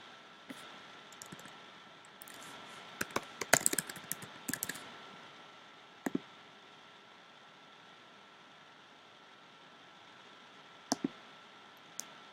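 Computer mouse clicking a Save button, a handful of crisp, faint clicks scattered in small groups over a quiet, hissing background.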